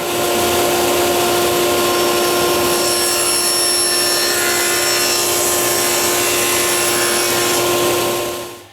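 A table saw with its fence set cuts a shallow 45-degree kerf into a piece of wood for a bird feeder, a loud steady whine running for about eight seconds before spinning down, with no talking.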